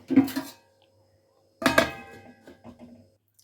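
Two sharp metallic clanks as a lid goes onto a cooking pan of fish curry, the second ringing briefly with a few small rattles after it, close and otherwise quiet.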